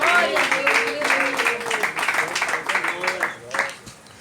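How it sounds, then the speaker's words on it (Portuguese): Applause from a church congregation rises and continues steadily, with voices and singing mixed in above the clapping throughout. "Pode bater palmas para Jesus."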